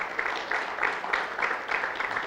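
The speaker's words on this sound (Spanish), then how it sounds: "vamos a dar un aplauso para recibir esta palabra" Congregation applause welcoming a sermon at a church teaching service, a steady dense patter of many hands clapping with regular swells, fairly near and alone without talk.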